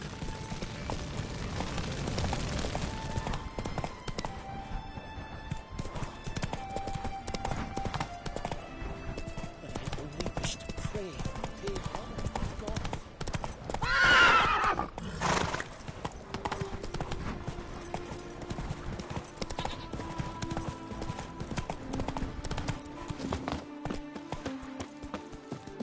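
A horse gallops in The Witcher 3, with steady rhythmic hoofbeats running throughout, a brief whinny partway through, and voices talking over the game sounds.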